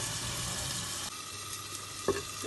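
Palakkad-style fish curry sizzles steadily in a clay pot, a constant close frying hiss, with a brief clink of stirring near the end.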